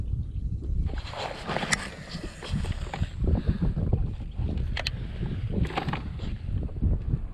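Wind buffets the microphone while fishing from a kayak, gusting in rough, uneven rumbles mixed with light water and boat knocks, fairly loud and close throughout.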